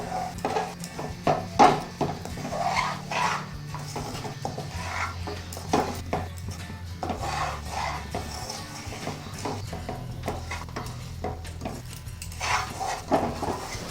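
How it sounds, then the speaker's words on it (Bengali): Fried kathi bhaja sticks, a crisp sweet shakarpara snack, tumble onto a plate with repeated light clinks, scrapes and rattles of dough pieces and utensil against dishware, irregular and close, running for the whole stretch. "এবার আমি এটা প্লেটে ঢেলে নিচ্ছি।"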